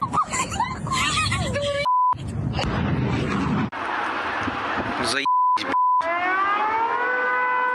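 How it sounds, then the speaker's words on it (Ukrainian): An air raid siren wails, rising and falling over occupied Crimea, cut by short steady beeps, with voices and broadcast-style audio mixed in around it. "над окупованим півостровом вкотре залунали звуки повітряної тривоги"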